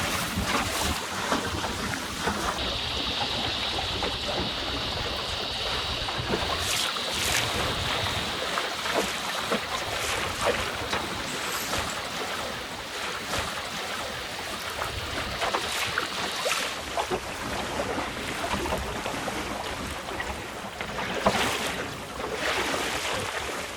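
Sailing boat moving at about 4.6 knots past Lion Island in a freshening breeze, with a steady, close wash of water along the hull and wind buffeting the microphone, plus a faint high whine partway through; no voices.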